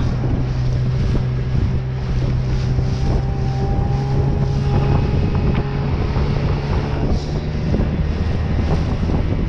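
Strong wind gusts across an open river channel in winter, buffeting the microphone steadily beside a boat on the water, with a low engine-like hum running underneath throughout and no one speaking.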